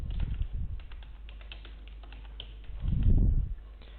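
A computer keyboard gets a short burst of quick keystrokes for entering a name into an online form, close and fairly quiet, with a brief muffled thump near the end.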